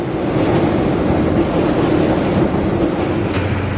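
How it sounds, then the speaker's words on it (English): A loud, continuous rumbling roar of a train crossing the Sydney Harbour Bridge overhead, steady throughout with a broad hissing wash and deep low-end drone. "can hear the train going over."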